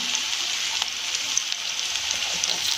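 Chopped vegetables sauté in hot oil for veg pulao, giving a steady, close sizzle with small crackles and occasional stirring, and no talking over it.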